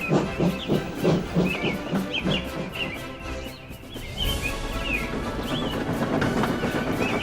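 A steam locomotive sets off, rhythmic chuffing and hissing steam pulsing loudly at first, then blending into a rushing roar of steam and rolling motion.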